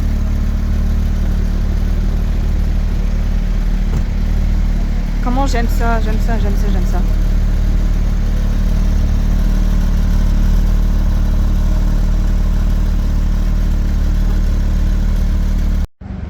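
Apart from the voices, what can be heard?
supercar engine idling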